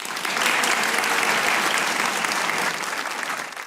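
Studio audience applause on the Pakistani comedy talk show Hasna Mana Hai, a dense, steady wash of many hands clapping, loud and close throughout, tapering slightly toward the end.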